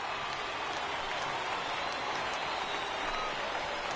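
A baseball crowd at an afternoon minor-league game stands and applauds in a steady, moderate wash of clapping that holds evenly throughout.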